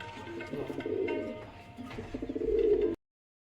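Pigeons kept in a coop coo in low, pulsing calls that swell and fade over a few seconds, close and moderately loud, ending abruptly.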